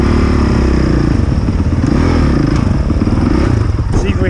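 Honda CRF 450 motocross bike running on a dirt track at Ynysybwl, a loud, continuous engine drone with steady revving and rattling clatter throughout, close to the rider.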